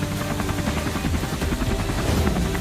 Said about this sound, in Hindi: अरे वहाँ तो एक हेलीकॉप्टर भी उड़ रहा है।